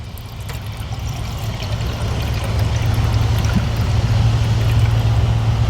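Water is poured out of a full cup of collected stormwater runoff, a steady low gushing stream that grows gradually louder and fuller over several seconds, close by and with no talking.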